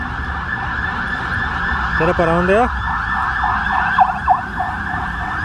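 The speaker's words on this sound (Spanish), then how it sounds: "ahí viene otra vez la ambulancia" An ambulance siren wails briefly as it passes along Avenida de las Américas, with rising and falling sweeping tones over steady street traffic noise. A few short siren chirps follow, and a voice speaks over it.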